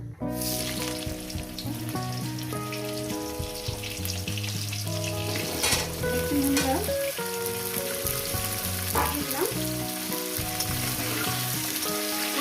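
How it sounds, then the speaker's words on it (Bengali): Jackfruit pieces fry in goat fat in a pan, an intense, continuous close sizzle and spatter with a few stirring clinks, with no talk. "এবার এর মধ্যে দিয়ে দেবো আমি এঁচড় গুলো দিয়ে আমি সুন্দর করে ভেজে নেব"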